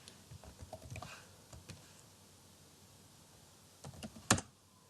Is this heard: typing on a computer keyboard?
yes